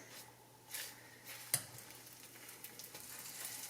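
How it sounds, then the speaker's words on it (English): Vegan burgers frying in oil in a pan give a faint, steady sizzle with a brief sharper spit about midway, no talking. "A little bit of oil in my pan. All right, here goes some burgers."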